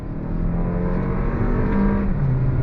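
A 2023 Toyota Crown sedan accelerates on throttle with a loud, continuous engine drone whose pitch climbs steadily toward the end. No one speaks.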